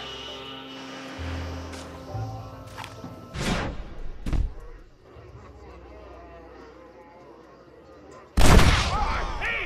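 Gunfire in the video game Red Dead Redemption, a few sharp, booming shots spread across the clip, the last one loudest and ringing out, mixed with game sounds and a character's voice.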